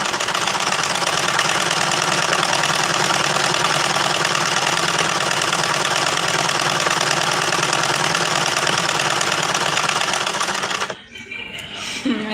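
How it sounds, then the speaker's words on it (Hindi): A sewing machine runs loud and close in a steady, unbroken mechanical whir during a home live stream, then cuts off abruptly near the end, leaving quieter room sounds. "मैं सिलाई भी कर रही हूँ"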